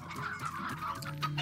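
Chickens in the Slime Rancher video game cluck softly and repeatedly at a low level, with a steady hum of game ambience underneath and no talking.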